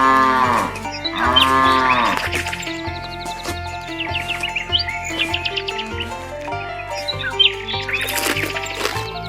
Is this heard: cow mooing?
yes